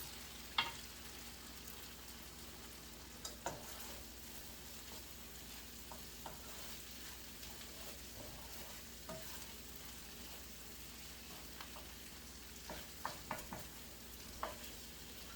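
A mix of sweet, white and yellow onions sizzles softly in butter with flour, salt and pepper for French onion soup, a faint continuous fry with occasional scrapes and clicks of stirring.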